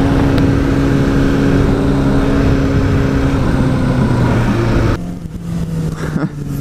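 A car drives through a parking lot race, its engine droning loud and steady close by before the sound drops off abruptly, leaving quieter rumble and road noise.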